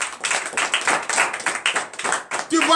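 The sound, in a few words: congregation clapping in acclamation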